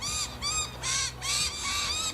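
Crows caw outdoors in four loud, harsh, rapid calls in a row, close by and with no voices.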